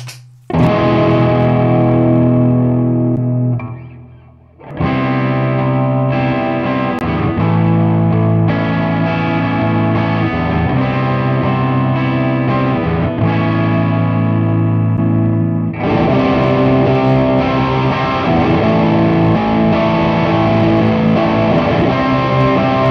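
A heavily distorted electric guitar through a Valeton GP-5 multi-effects pedal's distortion setting plays sustained, crunchy chords, with a short pause before loud, thick riffing resumes and rings on.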